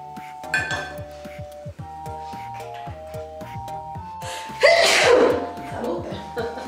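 A single loud, close sneeze bursts out partway through, over soft chiming tones and light clinks in a kitchen-like setting.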